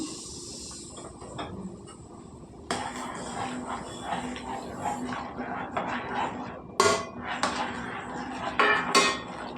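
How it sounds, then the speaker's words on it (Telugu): A spoon clinks and scrapes against a pot as semolina (rava) is stirred into boiling water for upma, with repeated close metallic taps and a voice speaking at times. "బాగా కలుపుకోవాలండి."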